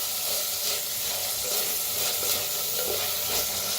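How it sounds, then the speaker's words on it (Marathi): Tomatoes and onion fry in a clay pot with native garlic, giving a dense, steady sizzle. Soft scraping comes from stirring throughout. No voices are heard. "आता छान भाजलेले आहे टमाटो"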